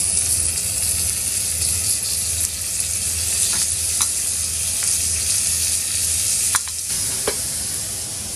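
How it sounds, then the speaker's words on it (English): Venison burger patty sizzling on a hot grill, a loud, steady frying hiss with occasional small clicks and pops. "On the hot grill."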